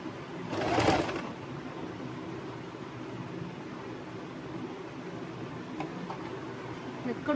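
Close-up, a sewing machine stitches picot edging on fabric, its motor buzzing and whirring steadily with a louder burst near the start, then running softly and evenly without talk.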